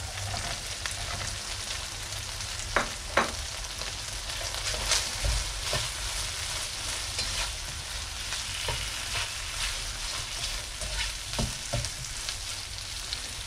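Diced jamón frying in a very hot pan, a steady dense sizzle with a few sharp pops and crackles, close and fairly quiet, with no talking over it.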